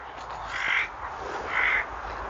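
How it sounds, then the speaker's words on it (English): Two distinct caws from crows outdoors near a parked camper van by a Neolithic wood henge, harsh and moderately close, evenly spaced about a second apart over a faint steady background hiss. "There's 3 crows."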